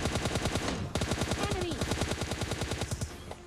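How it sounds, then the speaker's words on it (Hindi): Rapid automatic gunfire in the PUBG Mobile Lite battle royale game, a steady stream of evenly spaced shots that stays fairly distant and moderately quiet, with a brief break near the start before the firing resumes. "लेकिन अभी भी फायरिंग साउंड मतलब अभी चल रहा था"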